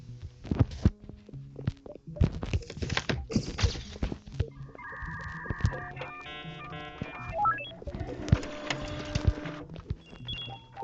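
Printers running in a busy setting, a loud mix of thunks, clicks and mechanical stepping, with rhythmic whirring and electronic beeping tones layered over the clatter, no talking.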